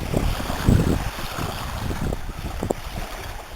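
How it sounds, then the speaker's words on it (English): A boat travels on the river at Piscataway Creek, its low rumble mixed with heavy wind buffeting the microphone and faint water noise, with no talking. "this boat on the river."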